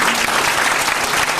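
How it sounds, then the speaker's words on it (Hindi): An audience claps loudly and steadily at a gathering, a dense, continuous burst of applause filling the room with no voices standing out. "बहुत बहुत जोर से ताली बजाइए।"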